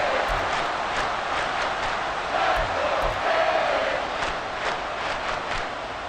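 A stadium crowd in the Madden NFL 24 football video game roars in a steady, broad wash of noise that swells slightly midway and holds at fever pitch throughout.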